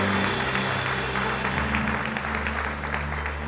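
Church congregation applauding throughout, a steady dense clapping wash over sustained organ or keyboard chords, loud and continuous with no speech.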